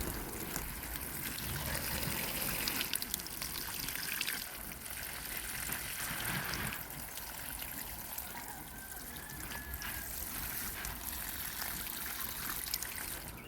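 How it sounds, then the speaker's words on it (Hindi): Water poured from a can or jug onto potted chrysanthemum plants, a steady close trickling and splashing that runs continuously without pause, with no talk. "अब देते हैं इन प्लांटों में पानी।"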